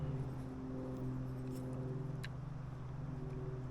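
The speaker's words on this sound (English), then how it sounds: "Like everybody in the world without a muffler on their car is coming by today." Car engine without a muffler droning steadily outside, a low rumbling hum that holds throughout with slight pulsing, moderately distant.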